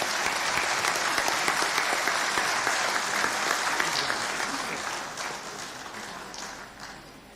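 A large assembly of Catholic bishops' conference delegates in East Africa applauds the chief guest, a broad sustained roar of clapping that tapers off gradually.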